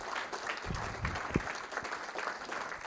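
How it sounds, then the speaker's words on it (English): Faint, scattered applause from a small group in a room, with a few louder thumps mixed in. "So how about a round of applause for my wonderful sister, Rilla Arnold."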